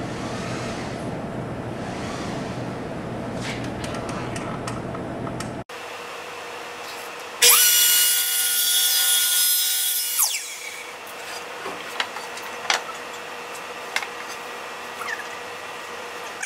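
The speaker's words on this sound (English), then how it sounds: "so you just basically set the saw at 45 and just cut away" Miter saw set at 45 degrees cutting wooden stretcher bars for a canvas support: a loud, sustained whine-and-rip cut lasting about three seconds, with quieter workshop clatter and small knocks before and after.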